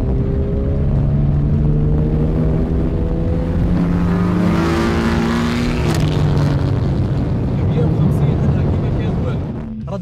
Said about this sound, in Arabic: ردة فعل عالية جدا من الموتور